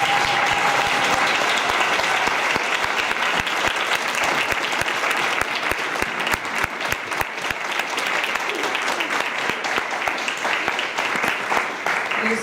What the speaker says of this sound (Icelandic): ég held við verðum að klappa fyrir honum